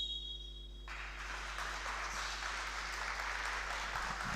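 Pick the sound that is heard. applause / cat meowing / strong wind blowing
applause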